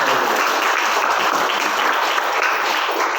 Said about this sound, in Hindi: ताली बजा के परमेश्वर धन्यवाद करेंगे।